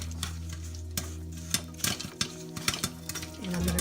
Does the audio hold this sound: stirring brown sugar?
yes